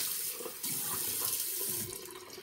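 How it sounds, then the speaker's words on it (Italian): Water running from a bathroom tap into a sink during a shave, a steady close hiss and splash with small shifts as hands rinse the face under the stream. "Ci sciacquiamo il viso, se l'acqua venisse mai calda."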